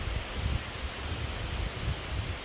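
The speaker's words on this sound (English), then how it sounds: "on a windy day like today" Wind blows steadily across an open campsite under a large tarp on a day of high winds, a constant broadband rush with low buffeting gusts and no voices.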